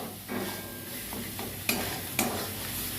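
Gourd leaves frying in a pan give a steady, close, soft sizzle with stirring throughout, broken by two sharp clinks of a utensil against the pan.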